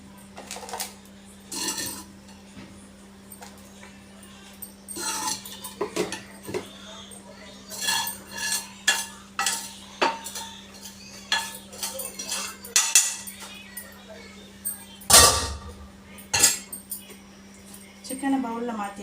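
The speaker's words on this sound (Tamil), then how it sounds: "சிக்கனை பவுலில் மாற்றியாச்சு." Cooked chicken moved from a pan into a bowl, with scattered clinks and knocks of dishes and cutlery over a steady low hum, one louder clatter near the end, and occasional speech.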